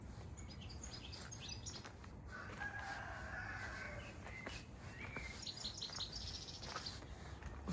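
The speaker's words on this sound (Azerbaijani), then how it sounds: "Quşların səsinə baxın." Birds sing in a garden near a kindergarten, with repeated chirps and tweets and a louder call midway, at moderate distance over quiet outdoor ambience, and no one speaking.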